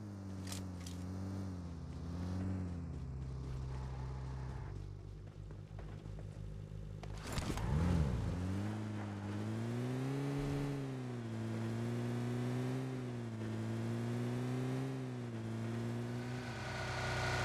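Car engine in Battlegrounds Mobile India, a steady loud drone with revving rises and falls throughout, plus a brief harsh burst near the middle; no voices.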